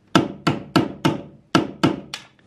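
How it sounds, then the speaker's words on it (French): A hammer strikes a screwdriver to free a seized bolt on a stripped Citroën 2CV chassis, seven sharp metallic blows in a steady rhythm with one short pause, loud and close, with no talk. "j'essaie d'y taper avec le marteau et avec le tournevis pour essayer de le faire venir"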